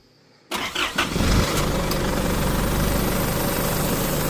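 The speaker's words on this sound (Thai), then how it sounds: "เอาเลยติดเครื่องกันนะครับ" A diesel engine cranks for a moment, catches, then settles into a loud, steady rumbling idle close by.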